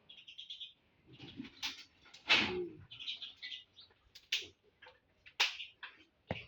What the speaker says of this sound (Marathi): बघा चिमण्या असं वाटतं